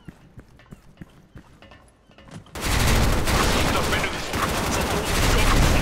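Gunfire in the online shooter Special Force 2: scattered sharp shots and footstep-like taps, then a sudden loud, sustained burst of dense firing and explosion noise that fills the rest, with no talking.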